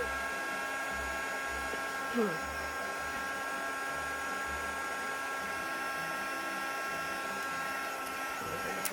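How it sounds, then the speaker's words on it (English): A craft heat tool blows hot air over a shaker card, a steady whooshing hum with a pulsing low drone that runs the whole time, fairly close. "that's been warmed with the heat tool"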